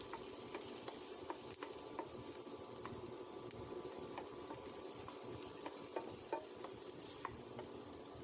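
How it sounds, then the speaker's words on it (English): Carrots stir-fried in a pan for a Korean fishcake dish, with a steady soft sizzle and scattered scraping clicks of a utensil against the pan throughout, no talking. "add the carrot and stir-fry 1 or 2 minutes"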